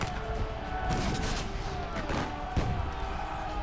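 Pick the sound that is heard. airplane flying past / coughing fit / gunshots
gunshots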